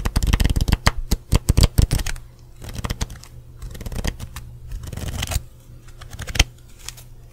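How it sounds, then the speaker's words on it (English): A deck of cards is riffled by hand in a rapid burst of crisp flutters, then quieter shuffling and a few soft taps follow. "Let's see if I can shuffle this without having it on a table."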